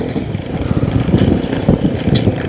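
An off-road motorcycle ride on rough ground at Sach Pass, on a bike with a troubled clutch, gives a steady, close low engine rumble with clattering bumps and small surges, and no voices.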